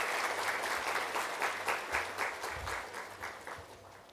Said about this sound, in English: Can we please have a big round of applause for Mr. Chris?